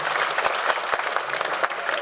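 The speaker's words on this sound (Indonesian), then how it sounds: "Tepuk tangan dulu dong untuk para Surabaya" Dense, lively audience applause at an entrepreneurs' festival in Surabaya, a continuous crowd of clapping with scattered sharper claps, loud and close throughout.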